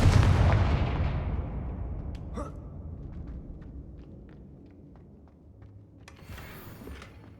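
A Confringo explosion spell in the video game Hogwarts Legacy booms loudly at the start and rolls into a long rumbling decay, with small clicks and debris scattered through the tail.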